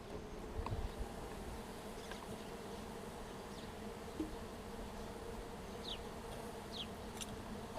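A steady drone of many honey bees buzzing close by as a hive is smoked in spring, with a few individual bees zipping past now and then.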